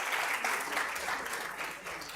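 An audience applauds at a formal event on election peace and security, steady dense clapping that holds level throughout with no voices.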